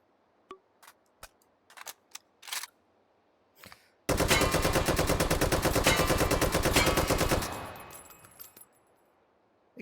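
In the VR shooting game H3VR, an AK rifle fires a loud sustained burst of fully automatic gunfire lasting a few seconds, preceded by scattered mechanical clicks and handling noises.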